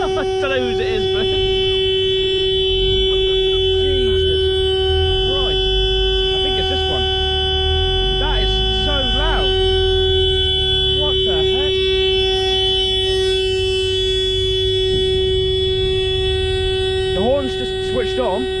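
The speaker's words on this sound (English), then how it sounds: "the horn has just gone off on this car, but there's no one in it." A parked car's horn blares nonstop at a hill-climb car gathering, a loud sustained tone holding steady for many seconds beneath intermittent nearby talk and crowd noise.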